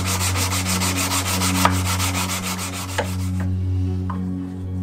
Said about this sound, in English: Now I'm on my rubbing bench, and I'm just taking the scale off, taking off any burrs, and just making sure the surfaces are clean.